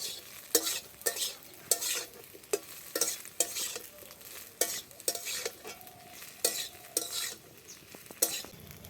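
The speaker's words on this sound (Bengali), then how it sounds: "আমি একটু হলুদ দিয়ে ভেজে নিচ্ছি কালার হওয়ার জন্য।" Paneer frying with turmeric in a hot pan, a steady oily sizzle broken by repeated scraping strokes of a spatula stirring against the metal, close and fairly loud, with no talking.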